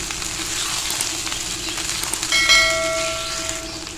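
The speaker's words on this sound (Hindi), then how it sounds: "और अब हमने इनकी भुनाई कर लेनी है अदरक लहसुन के साथ।" Chicken frying with ginger and garlic in a karahi, a steady hiss of sizzling oil with a brief metallic clink and ringing tone partway through, close and moderately loud.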